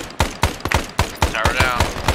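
Rapid automatic gunfire from the ARMA 3 SOG Prairie Fire game, close and loud, roughly ten sharp shots in a steady, evenly spaced burst with no talking over it.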